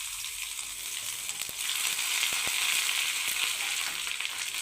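Ginger pieces fry in hot oil in a pan on a low flame, with a steady bright sizzle that swells a little after a second and a half, broken by a few sharp clicks, and no one speaking.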